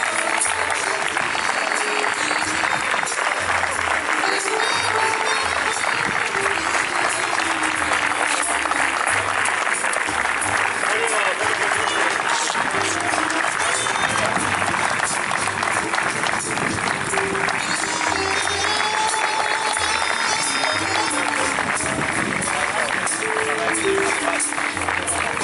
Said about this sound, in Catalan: Un fort aplaudiment a la nostra reina.